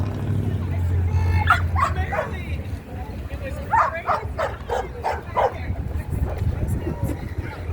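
A dog barks and yips repeatedly at a No Kings Flag Day protest in Minot, North Dakota, the sharp calls coming in bursts over a babble of crowd noise and nearby talk.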